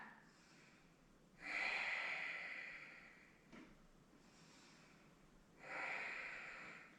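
Deep yoga breaths, slow and close, two long rushing inhales or exhales separated by a quieter pause, with a short sniff in between.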